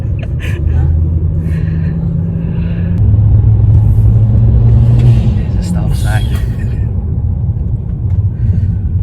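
A BMW E90 sedan driving with a low, steady engine rumble and road noise throughout, swelling slightly midway as it pulls away, with people talking inside the car over it.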